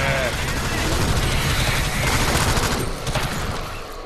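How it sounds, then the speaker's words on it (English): Dense, continuous automatic gunfire from the video game Alien Swarm: Reactive Drop rattles loudly throughout, with a player's voice heard over the shooting. "I can't see if I'm shooting teammates or not."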